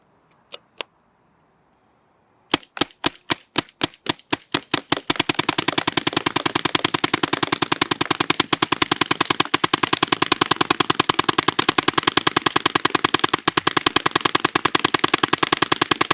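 A Dye DLS paintball gun fires brittle paintballs, starting with a few spaced single shots, then a rapid, loud, sharply clicking stream of continuous fire lasting over ten seconds.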